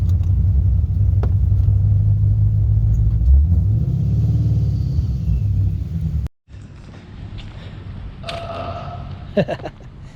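Supercharged Ford Mustang S197 with an MT82 manual gearbox, Paxton 2200 supercharger on a 3.6 pulley and Comp Cams stage 3 cams, rumbling deep and loud while driving; the sound cuts out briefly, then returns as a quieter rumble.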